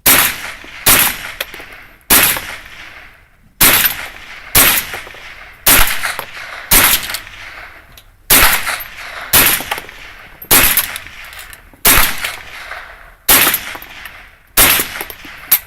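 Rapid gunfire at a shooting range: about a dozen loud, sharp cracks in fairly steady succession, each with a short echoing tail, close and dominant with no talking.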